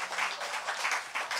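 Thankful applause from a church congregation at an all-night prayer service, a brief, even wash of many hands clapping together, steady and moderately loud with no one speaking.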